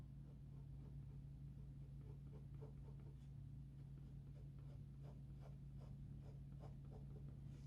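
Pen hatching strokes on paper during a drawing, a quick run of faint, rhythmic scratches over a steady low background hum.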